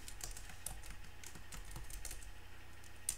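Steady, quiet typing on a computer keyboard while writing a WordPress page, a continuous run of soft, even key clicks with no voices.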